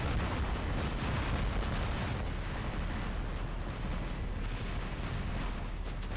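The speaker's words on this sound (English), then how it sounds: "Someone's firing a lot of Noricums and stuff here." Noricum weapons firing in the video game War Robots, a dense, continuous roar of overlapping explosive blasts and bursts with no break in the barrage.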